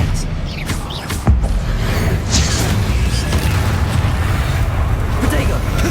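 An Expelliarmus spell cast in the video game Hogwarts Legacy lands as a dense rumbling magical burst with a sharp crack near the start, then a loud sustained roar.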